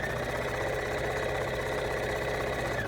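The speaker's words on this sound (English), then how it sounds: "I'm just going to sew it together" A sewing machine stitching quilt block pieces together, a steady even mechanical whir that runs unbroken and close for the whole stretch.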